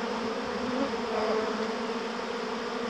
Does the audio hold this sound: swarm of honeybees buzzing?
yes